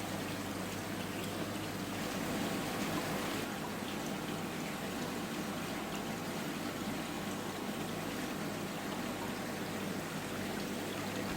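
Water spills steadily from a homemade Bakki shower spillway tray into a garden fish pond, a constant broadband splashing trickle close by with a faint pump hum beneath, unbroken throughout.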